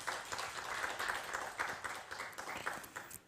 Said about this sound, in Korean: 교육부 정봉출 팀장님께 다시 한번 큰 박수 부탁드리겠습니다.